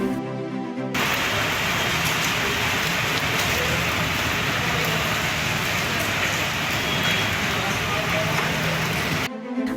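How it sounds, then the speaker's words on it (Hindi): Heavy rain pours steadily in Chandigarh, a dense continuous hiss that starts and stops abruptly, with no voices. "झमाझम बारिश ने पूरे ट्राई सिटी को भिगो दिया"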